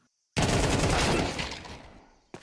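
AK rifle fire in a Counter-Strike match, a sudden loud burst of rapid shots that tails off over about two seconds, followed by one faint later crack.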